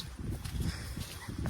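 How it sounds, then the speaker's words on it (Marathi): Cows walking along a muddy, waterlogged path, their hooves giving soft, irregular squelching thuds and low shuffling steps close by, repeating unevenly over a steady outdoor background. "हा बघा गाय जातात चिखलानी माग"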